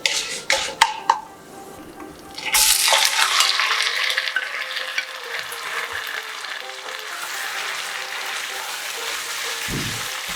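Chicken pieces hit a hot pan with cinnamon and burst into loud sizzling, preceded by a few clinks of a utensil; the frying then settles into a steady hiss with occasional scraping stirs.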